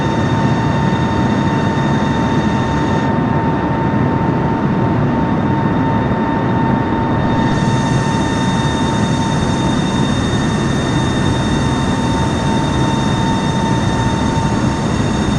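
A Dash 8 turboprop taking off in a flight video game: a loud, steady engine roar with a constant whine, holding unbroken from start to end with no voices.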